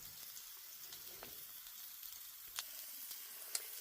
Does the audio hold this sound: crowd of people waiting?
no